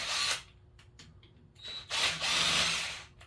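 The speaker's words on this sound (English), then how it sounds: "A couple little whacks of the impact usually gets it done." A cordless impact driver loosens screws on a Honda CB750 engine in two short, loud, buzzing bursts separated by a pause with faint clinks.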